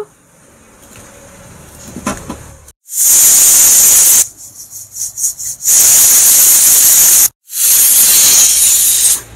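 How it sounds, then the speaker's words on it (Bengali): A pressure cooker cooking mutton lets out loud, harsh hissing whistle blasts, three long bursts of roughly one and a half to two seconds each, separated by short gaps of quieter bubbling and rattling, very close. "আর ঢাকন লাগিয়ে দিয়ে না আমি 3টে সিটি এর মধ্যে দিয়ে নেব।"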